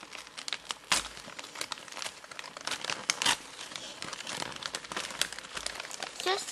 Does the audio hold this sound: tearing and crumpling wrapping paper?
yes